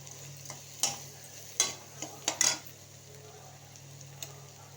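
Chopped curry leaves hit hot oil in a kadai along with onions and garlic for a mango dal, giving a faint sizzle broken by several sharp spoon scrapes and clinks against the pan.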